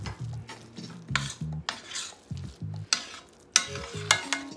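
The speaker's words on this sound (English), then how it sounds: "Mix it all together." Thick mushroom loaf mixture being mixed with garbanzo bean flour in a bowl, a close, steady run of wet squelching stirs and scraping strokes with occasional utensil clinks against the bowl, no talking.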